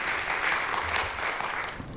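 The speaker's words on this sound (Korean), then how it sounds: "큰 박수 보내주시기 바랍니다" Audience applause at a church letter-reading gathering, a dense steady wash of many hands clapping throughout, fairly loud and continuous with no speech over it.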